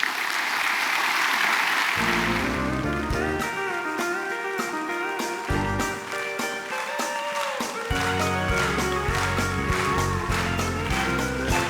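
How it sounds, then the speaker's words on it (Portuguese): A congregation claps loudly, then music starts and the crowd keeps clapping along in rhythm with the song. "Vamos aplaudir o Rei dos Reis."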